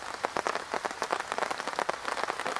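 Afternoon rain falls outdoors at a prepper meet, an even crackling patter of drops striking a surface, moderately loud and continuous with no voices.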